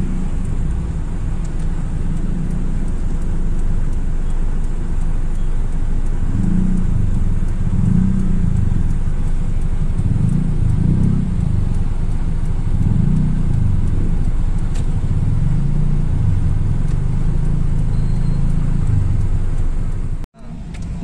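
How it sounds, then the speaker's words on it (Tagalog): Bumper-to-bumper road traffic on the way to Divisoria, a continuous low rumble of idling and creeping engines with rising and falling motorbike-like revving, heard close throughout before a sudden thud near the end. "bumper to bumper ang traffic"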